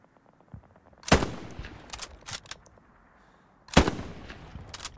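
Gunfire in the video game Hell Let Loose: two sharp, loud shots a few seconds apart, each followed by scattered smaller cracks and echoes, with quiet gaps between.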